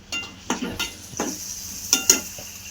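Garam masala and an onion-garlic masala frying in a pan, heard as a soft sizzle under a handful of close, sharp scrapes and clinks of a spoon stirring against the metal, with no talking.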